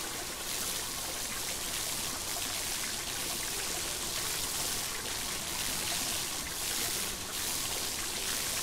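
Water cannon overwatering tulips in a Paw Patrol Mighty Pups video game, a continuous hissing spray and trickle of water running steadily at even loudness.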